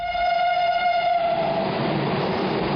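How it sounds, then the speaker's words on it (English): A French TGV high-speed train sounding its horn, a loud sustained tone that cuts off and gives way to the rushing roar of the train passing close by. "A French TGV train ushers passengers through Europe at speeds of 200 miles per hour."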